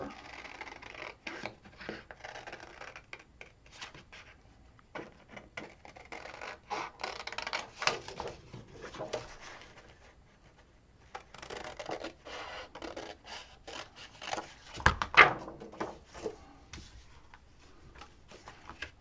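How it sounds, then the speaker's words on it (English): Scissors cutting around green paper for a decorated accordion album, a run of close, crisp snips and scratchy strokes coming in bursts with short pauses, no talking. "I'm going to cut around the green paper."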